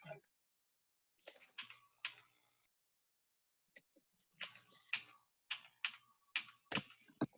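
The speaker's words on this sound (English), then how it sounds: "That's just the sound my up arrow key makes." A mechanical keyboard's up arrow key clicks in quiet bursts of sharp, close taps, some isolated and others in quick clusters, with short silences between.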